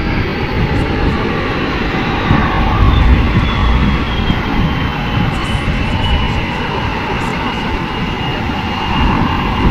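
An LCH light combat helicopter performs aerobatic manoeuvres at an air show, pulling up sharply. Its engine and rotor make a loud, steady roar with broad, rushing noise that holds throughout.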